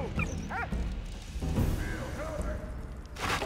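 Small dog from the video game Valiant Hearts yipping and whimpering in a few short calls, mixed in with game sounds and someone talking over it.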